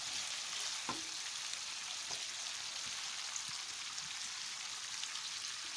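Chopped dry onions sizzle steadily in a hot pan for chicken sauté, a continuous bright frying hiss with a few soft clinks and stirring taps, close and alone with no talk.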